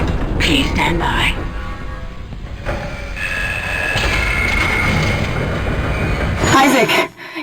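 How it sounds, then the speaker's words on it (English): A tram car rolls on rails in the Dead Space Demake game: a loud, continuous mechanical rumble with bursts of metallic squeal. "Replacing damaged tram car."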